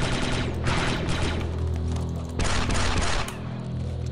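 Rapid submachine-gun fire from a Star Wars: Republic Commando firefight, loud and continuous with dense overlapping bursts and booming impacts over about four seconds.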